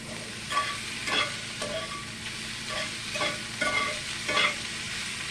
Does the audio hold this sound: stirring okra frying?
yes